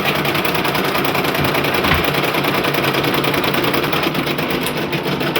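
A Brother embroidery machine stitches through leather with a fast, steady mechanical whir and needle chatter, loud and close, running continuously without pause.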